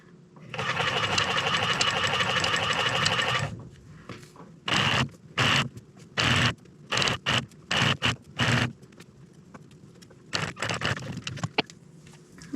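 Sewing machine stitching the lining of a fur bomber hat with a 1/4 inch seam allowance: a steady loud whirring run of several seconds, then a series of short start-stop bursts of stitching.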